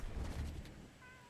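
A cat meows in a video game, a short sequence of meows over a low background hum that fades toward the end.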